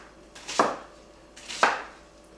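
A knife chops an onion on a cutting board into a quarter-inch dice, giving two sharp, close thuds about a second apart, each with a brief crisp slicing edge, in a quiet room.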